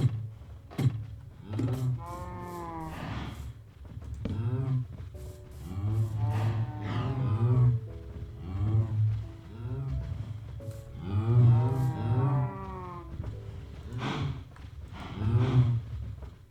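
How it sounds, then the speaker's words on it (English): Minecraft cows lowing again and again in blocky game moos, several loud pitched calls spread across the stretch, layered over a low steady hum with no talk. "Goddamn cow."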